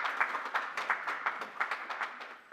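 A small audience at a university–industry exchange award ceremony claps in a quiet, sparse round, individual hand claps standing out in an uneven rhythm.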